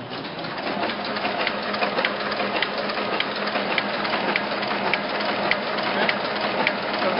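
A Heidelberg QM46 two-colour printing press runs with both units turning, a steady dense mechanical whir with fast regular clicking and ticking throughout, loud and close, with no voices.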